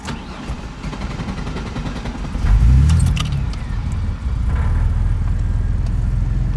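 A truck engine keeps running after the ignition is switched off: a steady, close mechanical rumble throughout that swells into a louder surge midway, with a light metallic jingle.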